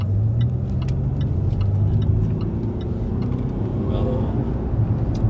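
Land Rover Discovery 3.0 TD V6 automatic 4WD, 2017, accelerating on a dual carriageway, heard from inside the cabin as a steady low engine and road drone with people talking over it.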